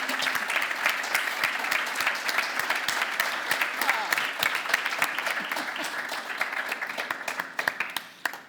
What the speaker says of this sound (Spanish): Un aplaudiment per ella, per favor.